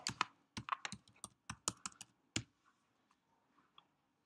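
Typing on a computer keyboard: a brisk burst of crisp, close key clicks, irregular in rhythm, thinning out to a few faint taps toward the end.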